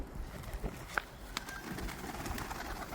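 Faint pigeon coos and soft bird calls from pigeons in a box, over a steady background rustle, with a few small clicks and knocks nearby.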